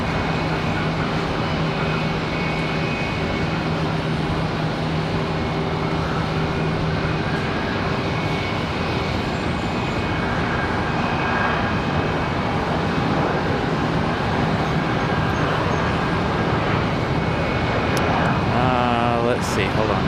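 An airliner's jet engines roar steadily during a takeoff at Charlotte Douglas International Airport, a dense continuous rumble held at an even, loud level throughout, with faint tower radio chatter in the background.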